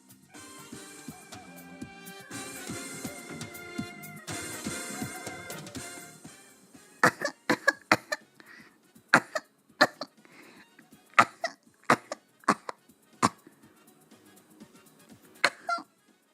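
Babies coughing in a coughing-baby contest, heard as a string of short separate bursts through the second half after a louder, busier opening section.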